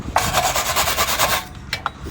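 Rust scale is scrubbed off the face of a brake hub on a Mercedes Sprinter or VW Crafter van, a close, rapid back-and-forth scratching that runs for about a second and a half, then a few quick separate strokes.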